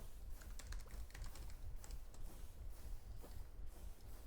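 Steady typing on a computer keyboard, with dense, irregular key clicks running continuously through the clip at close range over a low background hum.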